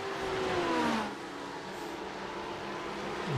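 A GT3 race car engine in a racing video game hums steadily with a falling then rising whine, a moderately loud continuous drone with no one talking.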